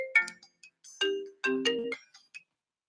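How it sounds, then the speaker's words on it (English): A phone ringtone plays a short melodic chime pattern, a few bright tonal notes in quick succession with brief gaps, loud and alone with no talking. "Or phones are ringing."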